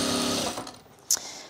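A sewing machine stitches through fabric for an ironing board cover, a steady close whirring run that stops partway, followed by a brief sharp click.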